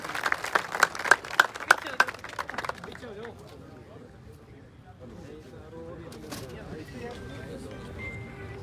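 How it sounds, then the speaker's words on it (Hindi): Scattered hand claps from an audience greet a speaker at a Jat girls' hostel gathering in Suratgarh, lasting a few seconds before fading as a man begins addressing the crowd. "एक बार जोरदार ताली इनके लिए"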